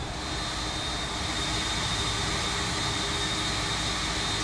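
Steady, loud broadband roar of airliner engines in cruise, an Airbus A330-200 in the X-Plane 11 flight simulator, continuous and unbroken with a faint high whine on top and no talking.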